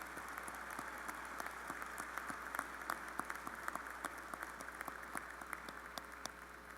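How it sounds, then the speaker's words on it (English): Applause fills a graduation ceremony hall for hooded Maine Business School students at UMaine's 2017 graduate recognition event, with fairly faint, distant clapping that has distinct sharp claps scattered through a steady crowd wash. "Let's have a round of applause for all those students hooded from the Maine Business School."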